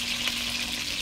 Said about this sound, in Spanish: Es la fritura.